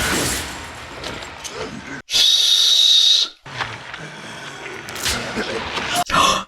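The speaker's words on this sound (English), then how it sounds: "Oh, the whistle, the whistle." A shrill, steady whistle blast from a Mad Max film, a loud sustained tone of about a second, set between excited voices and crashing action.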